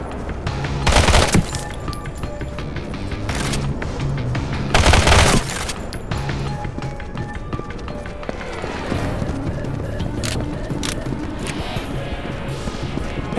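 Heavy gunfire and explosive bursts fill a firefight in the mobile shooter game Modern Combat, with two loud blasts standing out over a constant dense din of combat effects.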